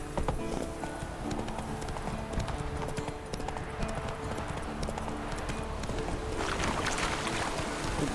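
Horse hooves clip-clop steadily in a video game, a continuous rhythmic trot mixed with dense game ambience and wind-like noise at fairly loud level.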